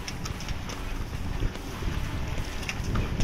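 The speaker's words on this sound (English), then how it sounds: "sails are up and set, winds are 13 true, we're doing about 6 knots" A sailboat moving on a beam reach in about 13 knots of wind, steady wind rush and water noise with light knocks and creaks, close and continuous, no voices.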